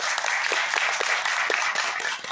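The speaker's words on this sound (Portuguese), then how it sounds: "uma salva de palmas para vocês" Applause from an audience at a public event on religious intolerance, moderately faint and steady, a wash of clapping with a few sharper individual claps standing out near the front.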